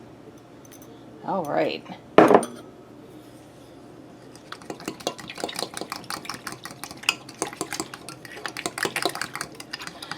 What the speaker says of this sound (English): So let's go ahead and dump that in.